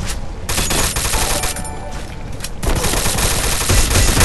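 Dense, continuous gunfire from Garena Free Fire, with loud overlapping bursts and rapid shots filling the whole stretch and no talking.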